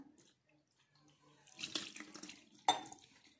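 Cold tap water poured over boiled wheat-flour dough in a kitchen sink, a broad splashing rush that starts faintly and builds partway through, with a sharp clink near the end.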